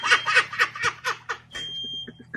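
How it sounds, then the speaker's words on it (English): A smoke alarm shrieks in short repeated beeps from cheese burning in a home oven, starting midway and cutting through people talking and laughing. "There goes the fire alarm."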